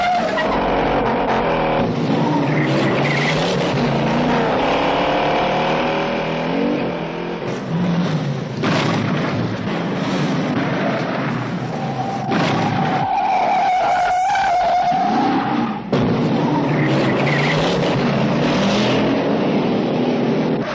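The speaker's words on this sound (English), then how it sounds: "That car chase is still considered one of the best in film history." Ford Mustang GT in the Bullitt film car chase: engines roar and rev continuously with squealing, skidding tires and mixed vehicle noise, loud and close throughout, with a shrill tire squeal standing out midway.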